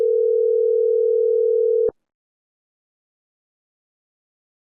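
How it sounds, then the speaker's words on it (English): Steady telephone dial tone on a phone line during a call-in show, a single sustained pure hum lasting about two seconds before cutting off abruptly into silence, with a brief click at the end. "Why is it still ringing? Where is that ringing from?"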